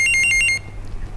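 Telephone ringing for an incoming caller on a TV call-in health show: a quick electronic trill of about six rapid pulses that stops midway, followed by faint low background hum.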